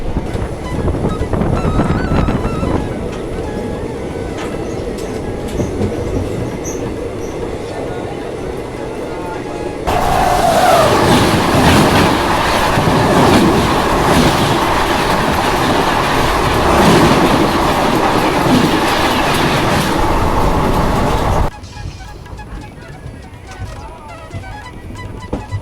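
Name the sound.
sleeper class train running behind a diesel locomotive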